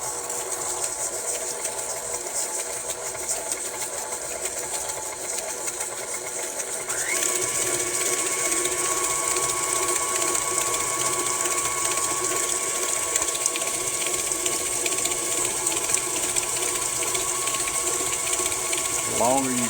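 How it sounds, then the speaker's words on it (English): Stand mixer creaming a cup of white sugar, a cup of brown sugar and half a pound of butter, switching on partway through to a steady mechanical whir and rhythmic clicking that runs continuously, fairly close. "we got a cup of sugar, a cup of brown sugar, and a half pound of butter in the mixer. Now we're going to cut it on."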